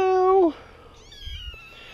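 A basket of four small kittens, including a black-and-white one and a tabby, gives one loud, clear meow up close, followed by fainter high mewing and a soft low bump in a quiet room.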